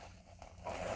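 A zipper on the side of a pair of Demonia Riot 21MP boots is drawn in one quick rasping pull, close and fairly quiet, growing brighter toward the end.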